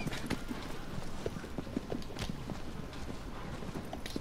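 Horse hooves clip-clop in the video game Shadow of the Colossus, an irregular run of close, dull thuds over a steady wind-like background, with no talk.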